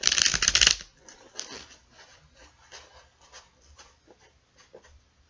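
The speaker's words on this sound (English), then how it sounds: "I'm going to shuffle these like 3 more times" Tarot cards shuffled by hand, a brisk loud riffle at the start followed by softer, intermittent rubbing and sliding of the deck, close and quiet.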